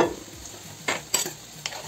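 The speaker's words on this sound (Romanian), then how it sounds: "În timp ce ceapa se călește, am să pun vinetele." Onion sautés in a pan with a soft, continuous sizzle, broken by three quick scraping stirs of a utensil against the pan.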